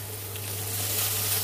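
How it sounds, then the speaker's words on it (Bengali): Thinly sliced onions frying in oil for birista in a Bengali-style Kashmiri chicken dum biryani: a steady, close hiss of sizzling that stays even and unbroken, with a low hum beneath and no voices. "বেরেস্তার জন্য আমি তেল দিয়ে তেলের মধ্যে পেঁয়াজগুলো দিয়ে দেবো, পেঁয়াজটা ভেজে তুলবো।"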